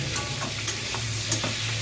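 Turmeric frying in hot oil in a pan, giving a continuous close sizzle with a few soft stirring taps, with no talking.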